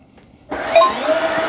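Tineco Floor ONE S7 PRO cordless wet-dry vacuum mop switching on: quiet at first, then its motor starts abruptly about halfway through and holds a loud, steady whine.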